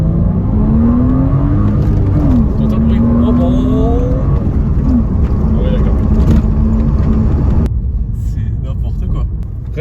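Porsche Cayman 987 phase 1 with a manual gearbox, its engine droning loud and steady as the car drives, pitch sliding up with revs, then cutting to a lower rumble near the end; faint talk beneath.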